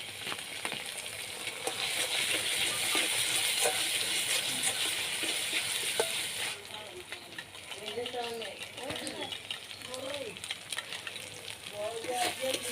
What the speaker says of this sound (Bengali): এখন পোস্তদানা, চার মগজ, কাজু বাদাম বাটাটা দিয়ে দেব।